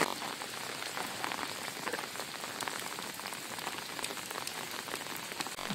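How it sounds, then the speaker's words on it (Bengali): Steady rain falls near a swimming pool, a dense, continuous patter of drops on surfaces, close and even throughout with no talking. "এইবার বৃষ্টি পড়ছে"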